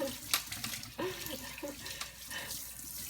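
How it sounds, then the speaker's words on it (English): Tap water runs steadily into a sink while a potato scrubber is rinsed under it, a soft continuous splash with small shifts in flow, close by and with no speech. "rinsing it out. It does rinse easy, I will give it that."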